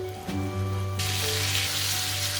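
Chicken pieces deep frying in hot oil give a steady, close sizzling hiss that swells sharply about a second in and then holds, over a low constant hum.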